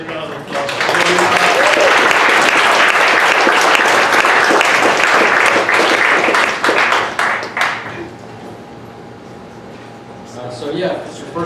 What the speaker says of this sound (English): Let's give a round, big round of applause.